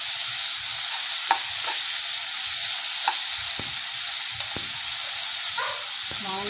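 Mango, tomato, onion and dried red chillies sizzle steadily as they are sautéed in a pan for fish curry, with a few sharp clinks of a spoon stirring against the metal now and then.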